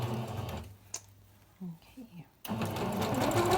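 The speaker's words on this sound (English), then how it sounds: "I'm ready to sew up the long seam, and as always I'm just going to do a few back stitches first" A sewing machine whirs steadily while stitching the long seam of a Halloween scrunchie, running loud at the start, pausing briefly for a short spoken word, then resuming.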